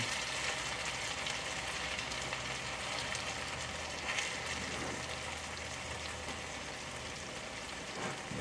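An overcrowded pan of okra frying gives a faint, continuous crackling sizzle like light rain, steady throughout with small bursts of spatter.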